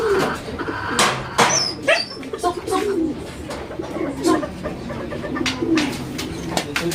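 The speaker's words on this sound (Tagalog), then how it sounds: "Yung mga kalapate natin." Pigeons coo in a loft, with repeated throaty coos and soft bird calls close by, mixed with flutters and a faint dog-like whimper through the stretch.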